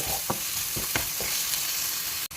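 Onions with ginger and garlic fry in a pan under a steady, loud sizzle, broken by a few soft stirring scrapes and a brief drop near the end.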